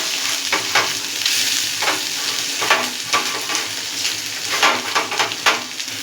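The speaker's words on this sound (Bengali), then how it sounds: "দেখুন নারকেলটা আমার হালকা লাল করে ভাজা হয়ে গেছে।" Grated coconut frying in oil in a wok, a steady loud sizzle broken by repeated sharp scrapes and clinks of stirring.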